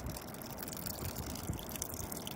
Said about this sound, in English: Let's water our whatever these are